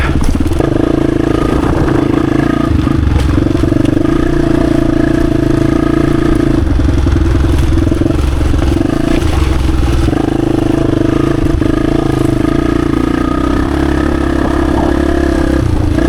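A 1996 Honda XR250 trail bike, once worn out and now restored, cruises in third gear through woods, its single-cylinder engine a loud, steady, close drone with slight shifts in load and a little mechanical clatter.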